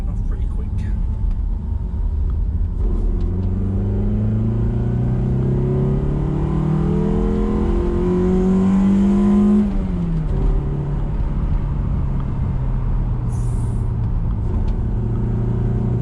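A Toyota MR2 fitted with a scrap-built induction kit pulls away, its engine intake note rising through rising revs and falling back, loud and close inside the car.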